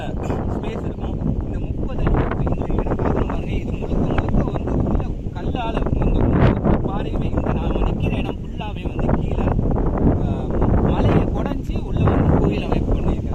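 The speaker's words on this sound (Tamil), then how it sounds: "ஒரு காற்று சவுண்டு தான் மட்டும்தான் கேட்குது" Wind blows steadily across a hilltop near an ancient rock-cut cave temple, a loud continuous rushing roar buffeting close to the microphone, with a person talking underneath.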